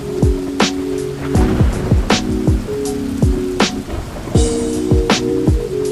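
Heavy rain heard while out in a downpour, a constant loud wash of falling water with repeated sharp splashes and whooshes of passing vehicles cutting through it.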